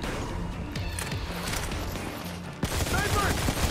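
Gunfire in the shooter game Modern Combat 4: Zero Hour, a rapid burst of sharp shots followed by a louder blast near the end.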